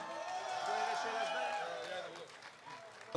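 Audience applause at a Macedonian music awards ceremony, a steady broadband wash of clapping from a crowd sustained for about three seconds, fading slightly near the end, with voices mixed in underneath.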